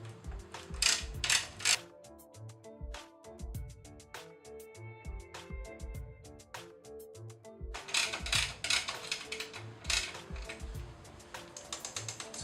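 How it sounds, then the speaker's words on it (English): A 12mm ratcheting socket clicks steadily while tightening the chain tensioning bolt on a Ducati Monster motorcycle, close up, in two bursts of rapid ratchet clicks with a short pause between them. "Using a 12mm ratcheting socket."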